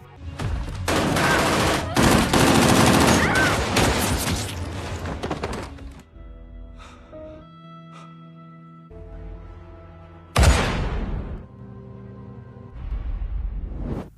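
Gunfire from a shootout in the film Black Knight, a dense loud burst of rapid shots for the first several seconds, then quieter tense stretches broken by another sharp blast near the end.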